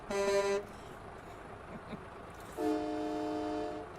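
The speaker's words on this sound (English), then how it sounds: "Oh, somebody's actually got a train horn." A train horn in the American Truck Simulator game gives two loud, steady blasts: a short one first, then a longer one after a brief pause.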